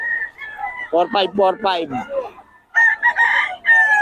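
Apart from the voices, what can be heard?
chickens crowing and clucking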